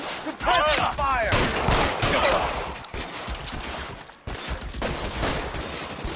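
Gunfire erupts in a shootout in the L.A. Noire video game, a loud sustained fusillade of shots filling the scene, with a voice shouting over the firing.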